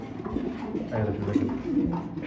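Doktor pigeon giving steady, rolling coos close up in a pigeon sale setting, a continuous low warbling call that runs the whole time with little else heard.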